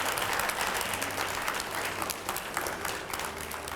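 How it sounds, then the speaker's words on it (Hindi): Studio audience at a televised political debate breaking into dense, sustained applause, loud and steady throughout with no voices standing out. "जरा जोरदार तरीके से तालियां बजा दीजिए"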